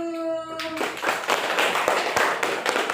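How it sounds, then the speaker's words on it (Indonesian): A classroom of students claps for a presenting group, starting after a brief tonal sound, then a lively burst of many close, distinct hand claps continuing steadily. "Tepuk tangan untuk kelompok 1."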